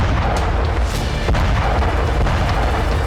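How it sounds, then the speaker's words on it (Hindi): Heavy, sustained rumbling blasts with sharp cracks rising out of a dense, loud roar, like bombs detonating in close succession, from an air strike on Gaza. "ये तस्वीरें उसी धमाके की हैं।"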